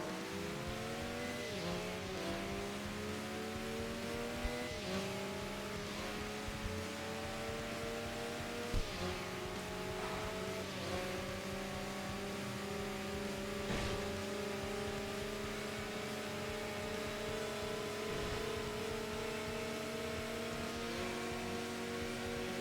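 The new Z race car in a racing video game revs hard through repeated gear shifts, each rising engine whine dropping at the change, with brief tire squeals and no talking.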